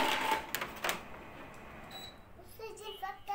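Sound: coins being taken out of a piggy bank

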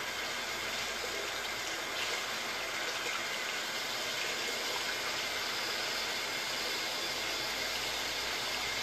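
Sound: water running from the tap into a sink

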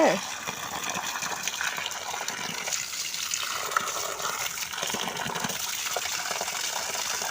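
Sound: water gushing and running out

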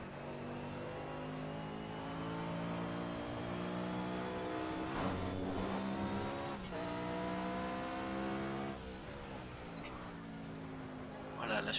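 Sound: vintage race car braking and accelerating in video game Project Cars

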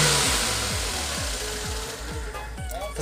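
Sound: Lada Zhiguli car engine revving

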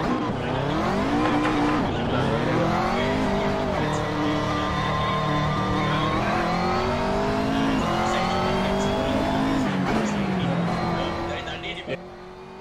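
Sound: race car driving in a racing video game during qualifying

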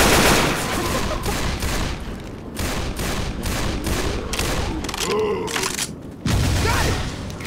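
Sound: gunshots in the video game Left 4 Dead

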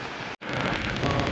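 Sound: storm wind and rain in Jaffna

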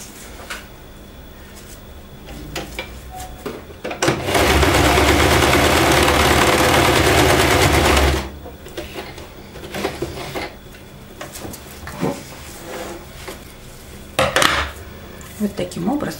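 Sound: sewing machine stitching fabric strips back and forth

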